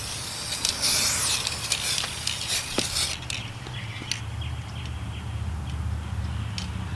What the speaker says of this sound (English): here we're going to spray this activator